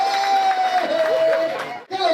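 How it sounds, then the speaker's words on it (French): A crowd at an outdoor national youth day celebration cheers and claps in a loud, continuous wash of voices and applause, with a steady whistle-like tone running through and a brief dip near the end. "Applaudissez d'abord pour notre"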